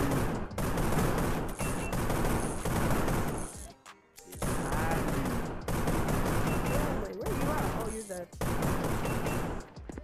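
Rapid gunfire bursts from the video game Gun Raiders, dense and loud, in long sustained volleys with short gaps between them.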